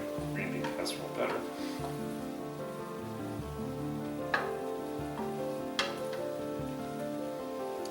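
Leeks, mushrooms, carrots and onions sizzle in a pan for a mushroom soup, a steady, soft frying hiss close by, with a few sharp clinks and stirring knocks and faint talk behind it.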